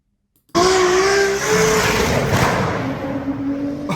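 Tuned Toyota Supra MK4 engine bursting into a loud, aggressive rev after a brief silence, holding a high, sustained roar before easing slightly and climbing again.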